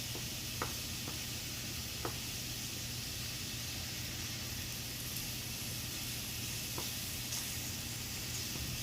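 JUST Egg vegan liquid egg substitute frying in a pan of Japanese-style fried rice with cauliflower, giving a steady, soft sizzling hiss throughout with a few faint clicks and taps, no talking.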